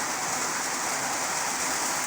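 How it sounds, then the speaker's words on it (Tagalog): Heavy rain pours down steadily at a house construction site, a dense, even hiss with no pauses or other sounds. "Umuulan."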